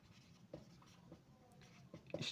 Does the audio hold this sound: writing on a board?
yes